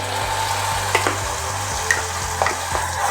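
Ground masala paste, with a pinch of turmeric, sizzles steadily in hot oil for a Malvani koti fish curry, close and loud, while a spoon scrapes and taps the pan a few times as it is stirred. No one speaks.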